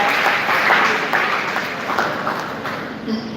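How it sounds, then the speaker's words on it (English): Audience applause for a participant at a primary school quiz competition on neglected tropical diseases, a steady wash of many hands clapping with crowd noise and a voice over it. "Please give her a round of applause."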